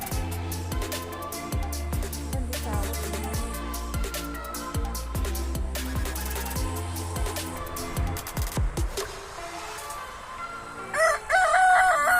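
Chickens kept at a rural home cluck in a busy, overlapping stream, and a rooster crows loudly nearby. A voice comes in briefly near the end.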